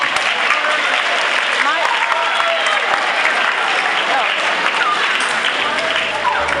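A large crowd claps steadily and loudly throughout, dense applause with some voices mixed in.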